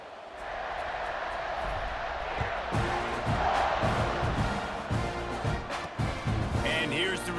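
Football stadium crowd at kickoff, a loud, sustained roar of cheering that swells slightly and stays dense throughout.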